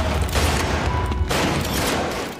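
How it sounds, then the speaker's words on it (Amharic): Two mafia men open fire in a factory scene from Peaky Blinders. A dense, continuous fusillade of gunshots roars loudly and steadily throughout, with no talk. "ሁለት ማፊያዎች በተከፈተው በር ዘው ብለው ገብተው አርተር ላይ ተኩስ ይከፍታሉ።"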